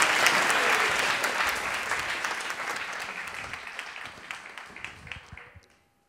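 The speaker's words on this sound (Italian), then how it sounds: "Un applauso a Willy." A stand-up comedy audience breaks into loud, dense applause that starts at full strength, then gradually thins into scattered claps and fades out to silence.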